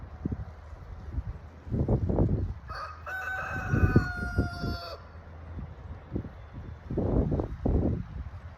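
Chickens on a homestead cluck in scattered bursts while a rooster gives one long crow in the middle, close and clear over light wind.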